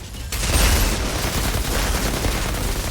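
Rapid bursts of enemy gunfire crackle in the shooter game Outriders, a dense, continuous fusillade with booming low end, no talking.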